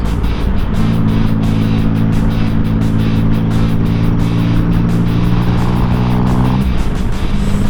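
A group of motorcycles including a Kawasaki rides together, engines humming steadily up close with a droning tonal note that holds, briefly dips near the end, then returns, with wind rushing over it.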